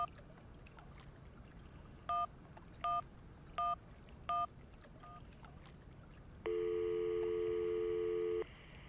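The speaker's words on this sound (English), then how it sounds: "let's try and make this phone call." Keypad tones sound as a phone number is dialed in the video game Syberia: four short evenly spaced beeps, then a longer sustained tone, all clear over a quiet background.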